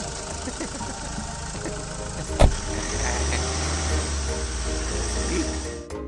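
Car engine idling and running steadily as people get in and drive off, a low rumble with a sharp knock partway through, with talk mixed in.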